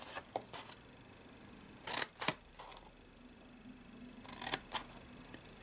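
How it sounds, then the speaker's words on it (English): Scissors snip wedges and notches into a cardstock gift box, giving a handful of faint, crisp cuts in small pairs with quiet pauses between them. "Cut up to the one score line and cut another wedge there."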